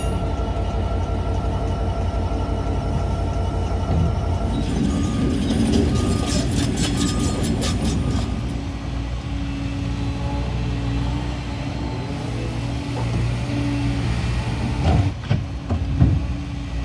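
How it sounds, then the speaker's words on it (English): A loaded freight train pulls out of the Ashville rail yard, a steady loud rumble with rhythmic clicking of wagons over the rails and occasional metallic squeals and clanks. "another loaded train is successfully leaving the Ashville yard."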